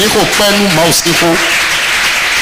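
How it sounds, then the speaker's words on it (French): A church congregation breaks into applause, a dense crackling wash that swells after an opening stretch of a voice and then fills the rest alone, steady and fairly loud. "Applaudissons la parole de Dieu."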